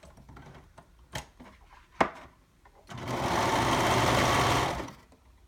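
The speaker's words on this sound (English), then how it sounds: "sew or serge along arm side using a 1/2 inch seam allowance" A sewing machine stitches a side seam along the arm edge of a garment, a loud steady whirring burst lasting about two seconds after a few scattered handling clicks and taps.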